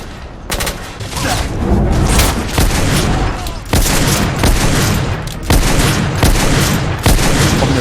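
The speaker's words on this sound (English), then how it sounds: "the satisfying thud of the rifle or cannon-like explosion of the duelist pistol" Dense gunfire from the video game The Order: 1886, with rifle thuds and booming, cannon-like blasts of a duelist pistol firing in rapid, loud volleys that repeat almost without pause.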